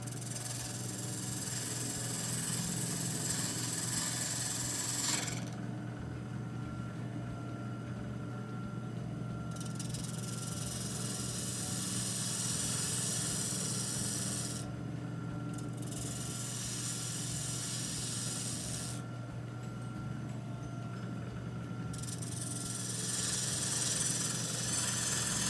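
A spindle gouge cuts the outside of a wood-turned pen holder part on a lathe, giving a steady hissing scrape over the motor's constant hum, with the cutting noise stopping and starting in several long passes.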